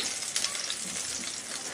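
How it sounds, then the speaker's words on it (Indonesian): Crushed garlic sautéing in a pan, a continuous close crackling sizzle with occasional bright pops and faint stirring sounds. "Kalau sudah kita akan gongsong bawang putihnya sampai nanti wangi."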